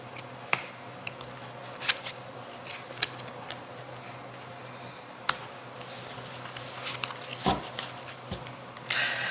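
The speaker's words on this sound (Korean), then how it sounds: "여러분님들 카드를 조금만 더 뽑아보도록 할게요" Tarot cards are shuffled and drawn close by, giving faint papery rustles with sharp isolated snaps and flicks scattered irregularly over a quiet background.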